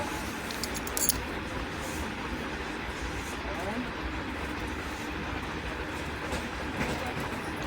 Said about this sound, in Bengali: এই দেখো লোকাল ট্রেনটা অনেকটা জায়গা নিয়ে।